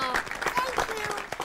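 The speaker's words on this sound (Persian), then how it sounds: "تشویق کنیم" Brief applause from a small studio audience on a live Christmas Day broadcast, light clapping mixed with talking voices.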